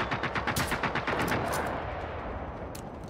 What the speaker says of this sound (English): What the fuck did you shoot it with? Loud ass gun having ass?